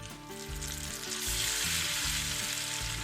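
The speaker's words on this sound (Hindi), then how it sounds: "उसी ऑयल में हम फ्राइज फ्राई कर लेंगे" French fries deep frying in hot oil for street-style cheesy loaded fries give a dense, steady sizzle and bubbling hiss that stays loud and close throughout, with a low tonal backing beneath.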